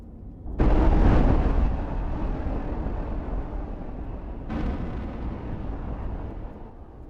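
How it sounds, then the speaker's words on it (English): Two heavy explosions boom in the space combat game X4 Foundations, the first loud blast followed by a rumbling tail, then a second, slightly softer detonation a few seconds later. "Explosion imminent."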